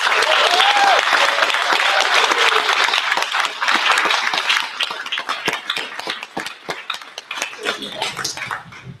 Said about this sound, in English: he deserves a really big round of applause